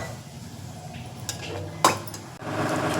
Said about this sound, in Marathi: गॅसवर कढई टाकून घ्यायची आहे